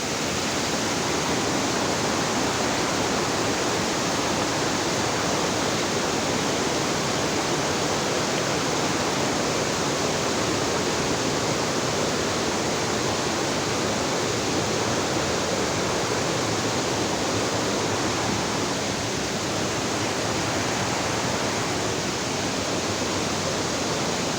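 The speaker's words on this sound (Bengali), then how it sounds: "এই পানি পাথর বেয়ে পানি পড়ছে" Water tumbles over rocks at a waterfall beside the road to Cherrapunji, a steady, dense rushing roar that holds at an even volume throughout, close and loud, with no voices.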